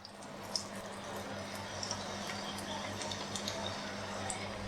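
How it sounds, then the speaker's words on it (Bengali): Potato chops coated in gram flour batter slip into hot oil and start frying, giving a steady soft sizzle with faint crackles and pops, close and without talk. "এখন আমি তেলে ছেড়ে দিচ্ছি।"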